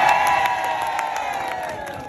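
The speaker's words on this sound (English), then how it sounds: "Everybody cheer." Crowd cheering and whooping for a street performer at Covent Garden, London, a dense wash of voices and shouts that stays steady and loud for about two seconds before easing slightly.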